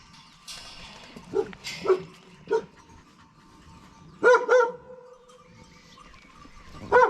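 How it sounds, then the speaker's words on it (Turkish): A dog barks several times nearby in short, spaced bursts, with a couple of quick double barks against quiet background noise. "Çok yakışıklı bir köpek ama ya."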